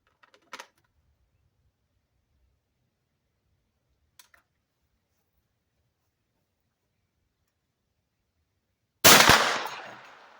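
A single loud 10mm Bear Creek gunshot cracks out near the end after a long quiet stretch with a couple of faint clicks, its report decaying briefly.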